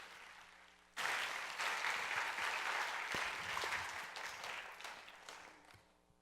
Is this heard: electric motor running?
no